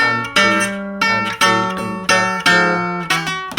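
Bright guitar chords struck in a steady rhythm, each strum ringing out and decaying before the next, playing a Delta blues intro alone.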